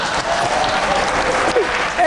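A television studio audience at a political talk show claps in a loud, dense burst that lasts throughout, with faint voices mixed in underneath.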